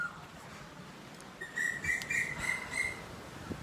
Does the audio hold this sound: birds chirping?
yes